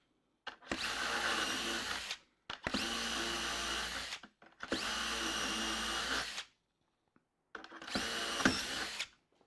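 A power drill with a 4.5 millimeter bit whirs through wood in four sustained bursts, each a few seconds long with brief pauses between, close and loud with no talking.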